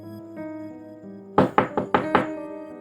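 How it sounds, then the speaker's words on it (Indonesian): Five sharp knocks on a door, close and loud: a quick double rap, a short pause, then three more in uneven rhythm, breaking a quiet room with a low steady hum. "suara ketukan pintu terdengar"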